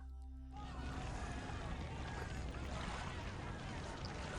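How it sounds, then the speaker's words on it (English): Ship sinking sounds in a naval strategy video game: a loud, steady rush of churning water and low rumble starts abruptly after a brief quiet moment and continues without a break. "some ship sinking sounds, probably one of mine"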